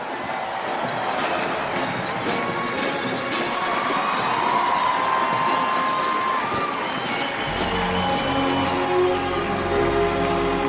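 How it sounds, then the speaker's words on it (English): A large outdoor crowd at a military parade cheers, whoops and claps for the 82nd Airborne Ceremonial Band, a loud continuous roar with sharp claps early on, shifting to a lower sustained rumble of cheering toward the end. "Give them a big round of applause, the 82nd Airborne Ceremonial Band"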